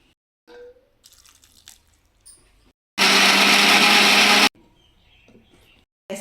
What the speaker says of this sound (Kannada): ಈಗ ಈ ಮಸಾಲೆ ಎಲ್ಲ ರುಬ್ಕೋಬೇಕು.